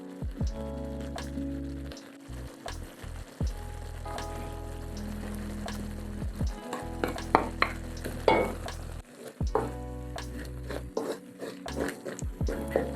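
Curry with coconut and dal cooking in a pan, with steady stirring scrapes and a soft sizzle continuing throughout, fairly close and moderately loud.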